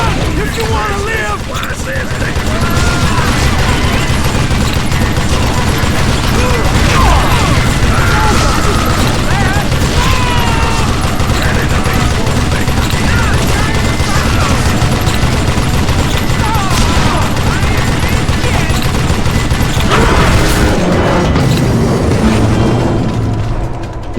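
Heavy gunfire from many guns in a Western shootout in Call of Juarez: Gunslinger, dense overlapping shots, booms and mechanical clacks rattling loudly and continuously before easing near the end.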